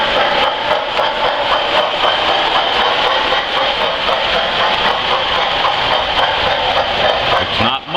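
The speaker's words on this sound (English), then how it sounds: "if you look close as the train goes by, you can see the difference in the color between the new cars and the old cars." An MTH model reefer train with a 390E locomotive and ten cars passes close by on a layout, a loud sustained rolling rumble with hiss that stays steady and then cuts off at the end.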